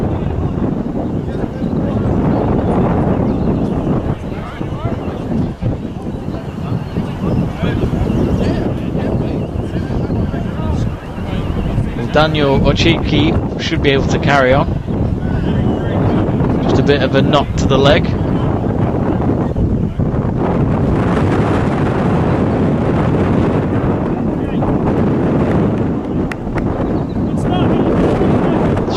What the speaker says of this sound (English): Sure is a windy evening here at Honeycroft